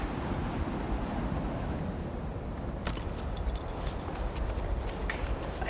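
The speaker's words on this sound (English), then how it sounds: "It makes sense that they wouldn't be able to travel up here, not with these gusts of wind." Steady wind gusts roar across a high cliff in the climbing game Jusant, a constant broad rushing layer with a few faint clicks and taps near the end, no speech.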